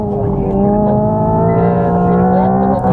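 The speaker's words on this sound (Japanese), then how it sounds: "ほらこうやってシフトダウンができる。" Hyundai IONIQ 5 N electric car on a circuit, its synthetic drive sound holding a loud, steady engine-like drone with layered tones that shift slightly as it simulates a downshift, close and continuous.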